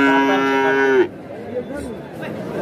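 A pure white Deshal breed tusked bull at a cattle market in Bodahat, Panchagarh, gives one loud, close, sustained moo for about a second, followed by a low murmur of the crowd.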